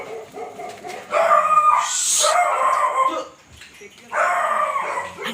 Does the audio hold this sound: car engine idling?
no